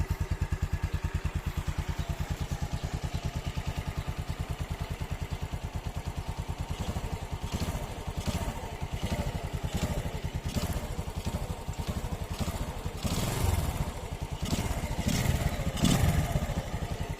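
A motorcycle engine with a stock exhaust pipe and programmable CDI runs steadily with a rapid, putting idle rhythm, then gets a few sharp throttle blips that rise louder toward the end.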